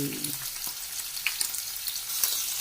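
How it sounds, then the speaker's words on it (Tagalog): Dried fish frying in hot oil with ginger, a steady bright sizzle with a few soft stirring clicks and a brief low hum at the start. "piniprito ko na rin yung dried fish"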